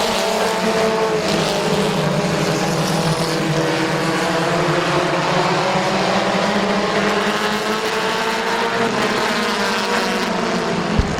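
Race cars roaring around the track at Midvale Speedway, a dense, continuous engine drone with shifting overlapping pitches from several cars running together, loud and steady throughout with no talk.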